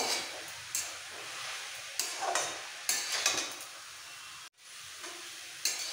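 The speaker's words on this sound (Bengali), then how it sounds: "মটরশুঁটিগুলো, সব দিয়ে দিচ্ছি। খুব ভালো করে একটু ভেজে নেব।" Peas and vegetables for pav bhaji fry and sizzle in a pan with a low, steady hiss, broken by several sharp scraping stirs of a spatula, and one brief drop to near silence.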